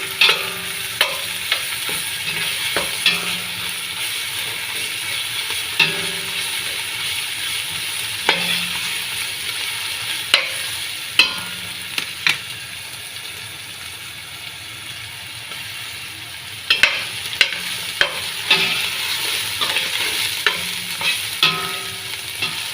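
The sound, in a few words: onions frying in a pan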